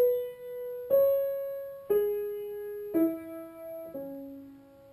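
Piano plays the lower keys from the intro of a song, five separate notes struck about once a second, each ringing on before the next, close and clear with no voices.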